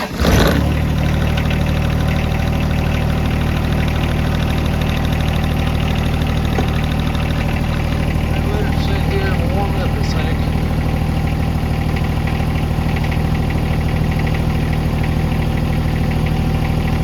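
John Deere 1025R compact tractor cranks and catches in a brief burst, then settles into a loud, steady close-up diesel idle with a constant low rumble throughout.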